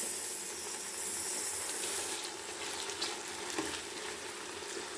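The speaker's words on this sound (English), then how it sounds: "So now I'll be adding my bacon and make them fry" Bacon frying together with onions in a pan for ragu bolognese, a soft, even hiss and sizzle that stays low and steady, with a faint stir near the end and no voices.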